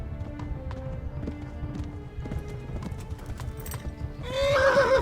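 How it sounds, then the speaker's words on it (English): Horse hooves clip-clop at a steady gallop, close by, then a loud whinnying neigh breaks out near the end, in the video game Kingdom Come: Deliverance. "I know you're distressed, Mr. Horse. We must keep going"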